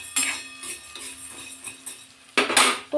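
Dry sago pearls roasting in a kadhai (wok), stirred so a metal spatula scrapes and clinks against the pan in a few irregular strokes. The sound is close and moderately quiet, with a louder scrape near the end.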